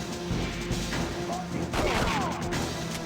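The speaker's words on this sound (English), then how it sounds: "Did you not hear the gunshots from 6 feet away?" Gunfire rings out in The World is Not Enough on N64, several loud close shots and crashes piling over a dense, busy game soundscape with continuous background noise.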